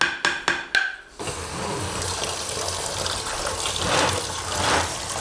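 Homemade country butter from a jar is dropped into cold water: a few quick clinks first, then a steady running, gushing stream of tap water filling a bowl, close and loud.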